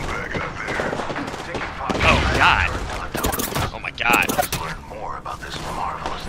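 Video-game gunfire from a Prowler rifle in burst mode, with sharp volleys popping over a busy multiplayer match while players talk over the shots.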